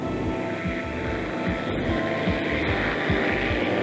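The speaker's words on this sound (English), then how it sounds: "With all 3 boats running now, you can hear them" Loud, steady droning of three racing powerboat engines running together at a 1986 Evansville race, with a rough rumbling pulse, continuous and fairly close.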